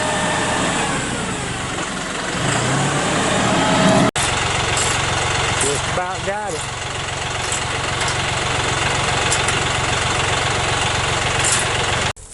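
A John Deere 5075 tractor engine runs steadily at idle, loud and close, with a continuous low rumble; someone speaks briefly over it.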